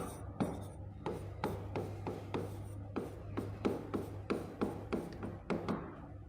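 A pen writing an answer by hand on paper, a quiet run of short scratchy strokes and taps in an uneven rhythm, close and faint with no talk.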